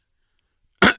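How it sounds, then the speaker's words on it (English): A single short throat clearing, one abrupt close burst near the end after near silence, followed by a tiny onset of another sound. "clearing your throat"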